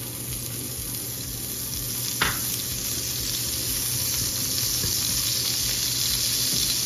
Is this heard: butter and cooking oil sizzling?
yes